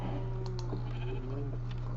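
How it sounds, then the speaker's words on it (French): Sheep bleat in the video game Minecraft, a few short wavering cries over a steady low hum, with faint keyboard typing in the background. "J'ai un mouton."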